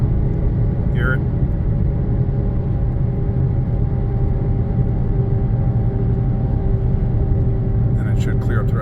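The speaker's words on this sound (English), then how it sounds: "You can hear that whirring noise in the front end." A car with a CVT drives steadily with a persistent whirring hum from its front end that grows worse when steering left, under loud engine and road rumble while someone talks.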